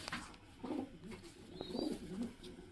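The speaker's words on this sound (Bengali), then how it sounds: "এটা হচ্ছে সবচেয়ে বড় পায়রা।" A large domestic pigeon in a home loft coos softly in a few low, throaty bursts, close by against a quiet room background.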